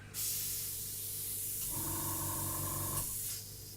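Airbrush spraying paint onto a model aircraft cockpit during a scale model build, a steady close hiss lasting about three seconds with a faint tonal hum from the compressor underneath, no talking.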